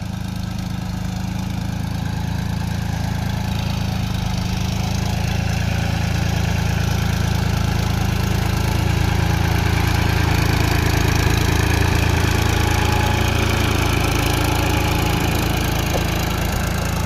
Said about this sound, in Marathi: पाहू शकता पाठीमागे ट्रॅक्टर यायला लागला आहे